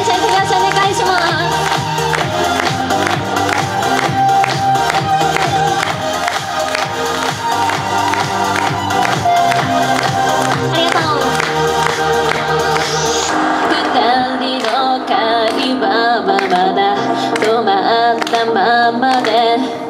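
Audience at a live pop concert in an Aeon shopping mall clapping along in rhythm, the steady handclaps blended under loud continuous music and singing for the whole stretch.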